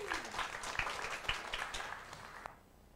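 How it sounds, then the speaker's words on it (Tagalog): Audience clapping at a business orientation seminar, a brief scattered round of applause that trails off into quiet after a couple of seconds. "Kaya palakpak natin yung Santay."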